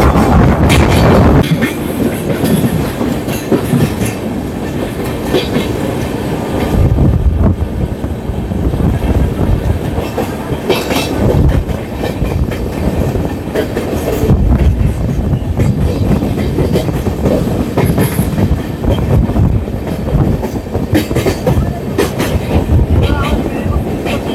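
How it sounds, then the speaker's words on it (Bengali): Sairang Kolkata Express rolling slowly along the rails, a steady close rumble of the carriage with faint rhythmic wheel clatter and wind noise running continuously. "আর এখন ট্রেন একটু স্লো চলছে।"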